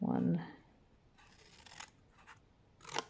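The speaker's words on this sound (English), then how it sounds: "if I'm cutting up to a fold line, if I've actually folded it first, then the snips don't go too far" Scissors snip 6 x 6 inch designer series paper up to a fold line: three short crisp cuts spaced across the moment, close by, with a voice counting briefly at the start.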